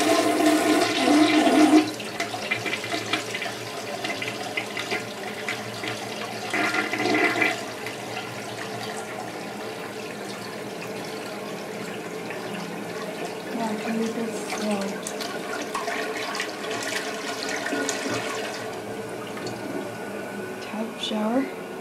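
American Standard toilet flushing in an Ottawa hotel suite bathroom, a loud rushing flush that settles into a long steady refill hiss and trickle, with a person talking over it.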